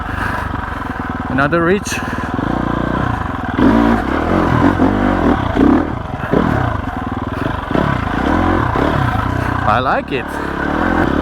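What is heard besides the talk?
2021 GasGas EX 350F dirt bike pulling away in first gear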